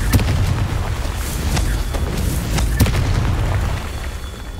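A Confringo fire spell blasting in the game Hogwarts Legacy during a duel with Merlin, with a few sharp booming bursts over a steady rumbling battle backdrop, loud and close with no talk.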